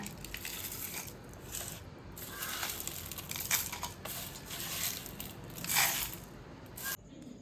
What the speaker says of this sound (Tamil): இப்போ இந்த ஜாரில் அரைச்சிட்டு வந்துடலாங்க